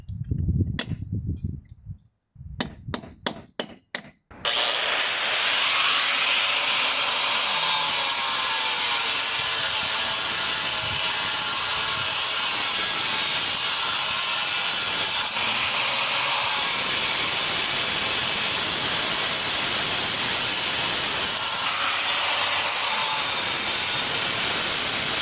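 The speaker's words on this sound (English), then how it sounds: "When I take my saw I want to ride the top of the brick like this." A power saw cutting brick during a chimney rebuild with new mortar: a few sharp knocks and taps, then a loud continuous grinding whine for about twenty seconds, close and alone.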